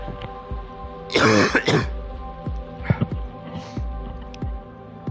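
A rough throat clearing rasps loudly up close, followed by a few short, softer coughing and throat sounds.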